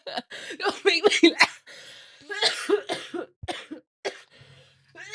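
Several harsh coughs and throat clearing mixed with chuckles and bits of speech, close to the microphone.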